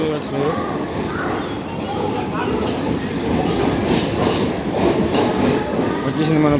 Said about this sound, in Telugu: వచ్చేసింది మన పూరి తిరుపతి ఎక్స్ప్రెస్